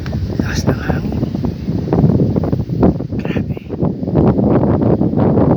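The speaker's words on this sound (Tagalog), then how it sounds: "Lakas ng hangin." Strong wind on Sambawan Island roaring steadily into the microphone with buffeting gusts, loud and close, a voice speaking briefly under it.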